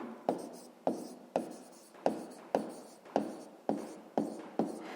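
A pen writes out a sixth-grade maths answer by hand, giving about ten crisp, evenly spaced scratching strokes, close and alone with no voices.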